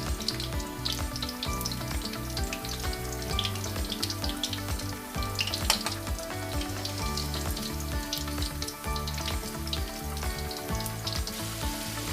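Taro (gabi) French fries frying in oil in Bicol give a steady, dense sizzle with constant crackling bubbles throughout, close and even with no talk.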